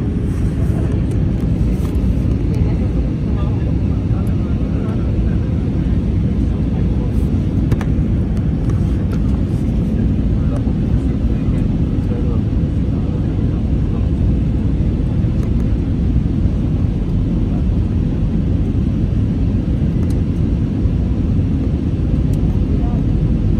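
Avianca Airbus A320 landing at San Cristobal airport in the Galápagos, heard as a loud, steady roar of engines and airflow that runs unbroken throughout.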